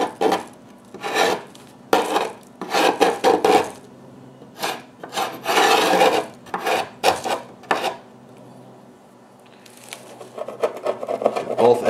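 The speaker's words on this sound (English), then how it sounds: "You can use the hook end of the hive tool to get in and scrape" Metal hive tool scraping the wooden rabbet of a beehive box while cleaning out dead colonies, heard as close, loud bursts of rasping strokes in an irregular rhythm, with short pauses between scrapes.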